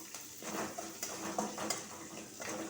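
Tempering spices fry in hot oil while cauliflower chutney is made, giving a faint, steady sizzle and crackle with occasional soft stirring and clinks of a utensil against the pan, no talking.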